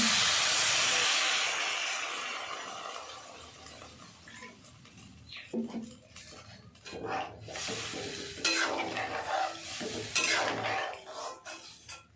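Water hits a hot pan of tengra fish curry with potato and okra, letting out a loud hissing burst that fades over several seconds, followed by scattered clinks and stirring of a utensil against the pan.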